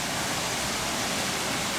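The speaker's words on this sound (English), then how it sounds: "This one's nice because it's got a big waterfall and river." A big waterfall and river in an elephant yard at Oklahoma City Zoo give a steady, loud rush of falling water, unbroken with no voices.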